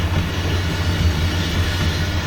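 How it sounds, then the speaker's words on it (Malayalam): A train rumbles past steadily in the GTA 5 video game, a dense continuous roar with low wheel rumble and hiss, loud and close throughout without speech. "ട്രെയിനിനെ ഞാൻ ഓവർടേക്ക് ചെയ്തിരിക്കും."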